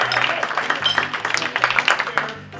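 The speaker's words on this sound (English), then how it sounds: "You may applaud." Scattered audience clapping at a magic show during a lunch event, uneven and fairly close, rising in bursts over a low steady hum for a couple of seconds.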